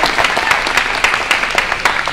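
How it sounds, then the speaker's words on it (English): Audience applause at a political training event in Greensboro, a short burst of dense, steady clapping from a crowd indoors. "Can I get a round of applause?"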